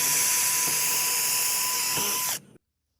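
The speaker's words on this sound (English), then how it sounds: "you're going to need a pretty high-powered drill to do this, drilling in the concrete" A high-powered drill bores into concrete, a loud steady high-pitched whine lasting over two seconds before cutting off abruptly into silence.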